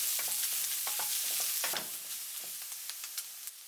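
Onion and leek are stir-fried in hot oil in a pan, with a steady sizzle and light, irregular stirring scrapes close by for a few seconds.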